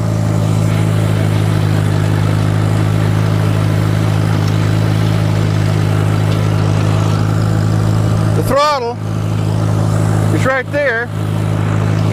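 A tractor engine idles close by with a loud, steady, low drone, and a person talks over it near the end.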